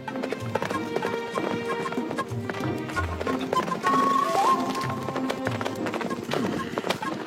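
Horses gallop in an animated cartoon, a loud, steady clip-clop of hooves that runs throughout over music.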